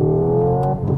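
The simulated engine sound of a Hyundai Ioniq 5 N electric car rises loudly and close up as a steady revving drone, then briefly dips with a couple of short sharp pops.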